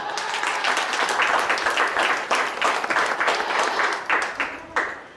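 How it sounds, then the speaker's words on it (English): An audience at a county 4-H event gives a round of applause, a dense burst of clapping that thins out into a few scattered claps near the end. "if you want to give, you know, yourselves, the volunteers, everybody a round of applause"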